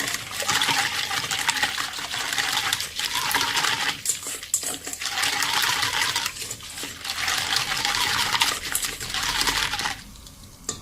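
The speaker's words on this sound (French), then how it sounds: "On va rajouter l'eau." Water pours steadily into a bowl of bagel dough mixture with milk and yeast, a continuous close splashing and trickling that runs for several seconds before tapering off.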